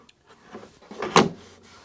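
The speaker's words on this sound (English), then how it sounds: "And pull the drawer out" A kitchen drawer fitted with a Blum Tip-On push-to-open device is pulled out, giving a short sliding rumble that ends in a sharp clack, close and fairly loud, with no talking.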